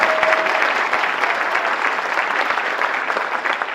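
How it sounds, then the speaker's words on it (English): Guests at a Faces of Fatherhood luncheon give a steady round of applause, many hands clapping close and evenly for several seconds with no speech on top. "Let us give Rafael Sanchez a hand of applause for a wonderful job."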